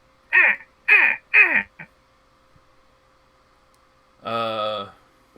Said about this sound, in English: You begin hearing the crow starts cawing.